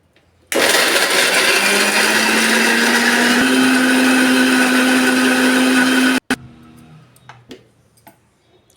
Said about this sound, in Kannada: ಮುಚ್ಚಳವನ್ನು ಮುಚ್ಚಿ ರುಬ್ಬನ್ರಿ ಇದನ್ನು ನುಣ್ಣಗೆ ರುಬ್ಬ್ರಿ